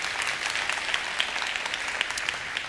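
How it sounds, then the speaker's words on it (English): A church congregation gives a round of applause in greeting, heard as a steady wash of many hands clapping at moderate distance, even and sustained throughout with no speech over it. "With our round of applause, we greet you."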